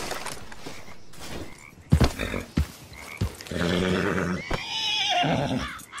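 A horse whinnies and neighs outdoors during a riding session, a loud drawn-out call rising in pitch after a few thumps and knocks, standing alone with no talk over it.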